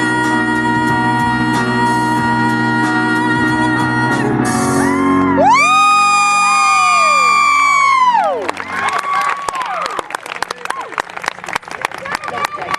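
An audience cheers, whoops and applauds loudly after a live cover performance in a crowded venue, with sustained singing giving way to a dense, continuous roar of clapping and shouts.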